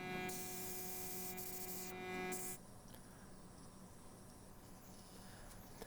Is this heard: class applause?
no